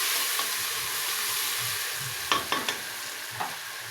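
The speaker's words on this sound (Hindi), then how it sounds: "अब हम इसमें डालेंगे अदरक लहसुन का पेस्ट 1 चम्मच। इसको थोड़ा सा भूनेंगे" Ginger garlic paste frying in a pan for a kadhi, giving a constant bright sizzle with a few sharp spatula scrapes and stirring knocks near the end, with no one talking.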